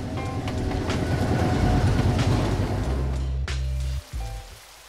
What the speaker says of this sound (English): It's a great spot to grab a coconut and wait and see the old steam trains.